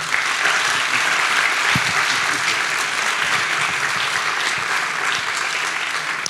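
An audience applauds steadily at an Italian literary event welcoming author Björn Larsson, a dense, even wash of many hands clapping that stays loud and continuous throughout.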